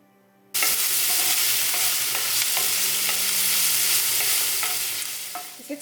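Garlic sizzles steadily in hot oil in a pan for a Middle Eastern lamb stir fry, starting abruptly at full loudness and holding close and bright with faint stirring clicks, easing slightly near the end.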